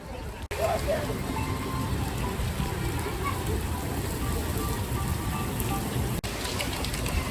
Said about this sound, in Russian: Мы приехали, и пошел дождь.